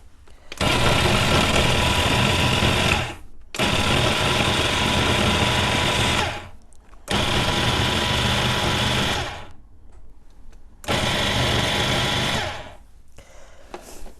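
A KitchenAid stand mixer runs in loud steady bursts of motor whir, starting and stopping four times with short pauses between, while a chocolate cherry pie filling is mixed.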